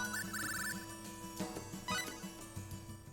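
A phone in the Star Ocean 3 video game rings with a bright, repeating electronic trill, two short bursts over a quiet game background of low hums and tones.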